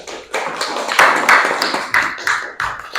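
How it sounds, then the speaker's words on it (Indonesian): Classroom applause for a student group: bursts of clapping hands from a room of pupils, irregular and fairly close, rising and falling in waves across the whole moment without talk. "Ya udah, beri tepuk tangan dong kelompok 3."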